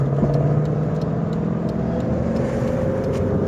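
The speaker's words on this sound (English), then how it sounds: "Out of the blue, a Ford Mustang GT. I don't know if it was a Shelby, but it was pretty nice." A Ford Mustang GT on a street in Virginia Beach, its steady mid-range engine note holding close and loud the whole time under a constant road rumble, with no talking.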